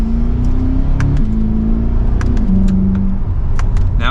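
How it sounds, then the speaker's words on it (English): A 2023 Chevrolet Corvette C8 Convertible 3LT 70th Anniversary edition accelerating on the road from second gear, a loud close engine drone rising in pitch, with a gear change and small rattles inside the cabin. "let's get this Corvette out on the road. And from second gear, here we go."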